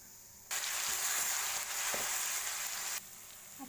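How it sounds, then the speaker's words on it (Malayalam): Ground ginger, garlic, green chili and shallots hit hot oil in a pan for a Kerala moru curry, bursting into a loud steady sizzle that lasts a few seconds before easing down. "അപ്പം നമ്മൾ അരച്ച് വെച്ചിരുന്ന ഇഞ്ചി, വെളുത്തുള്ളി, പച്ചമുളക്, ചെറുള്ളി ഇതെല്ലാം കൂടെ നമുക്കിതിലേക്ക് ഇട്ട് കൊടുക്കാം."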